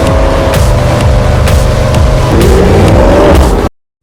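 Mercedes GT 63 S high-performance car engine, a loud, close, continuous roar with rising and shifting tones as it revs, cutting off sharply near the end.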